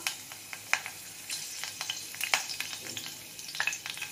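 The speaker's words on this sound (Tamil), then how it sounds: "பிரியாணி இலை, பட்டை கிராம்பு ஏலக்காய் இதெல்லாம் பொரியட்டும் கொஞ்சம்" Bay leaf, cinnamon, cloves and cardamom crackle and fry in hot oil, a close, steady sizzle broken by sharp pops and spatters, with no talking.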